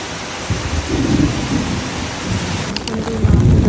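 Steady heavy rain pours down at a camping resort, with low rolling thunder rumbling beneath it throughout and growing stronger toward the end, with no voices.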